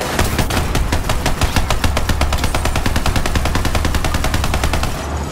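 Rapid automatic gunfire from a weapon in the video game Borderlands 3: a loud, continuous stream of evenly spaced shots that holds steady for the whole stretch, with no voices.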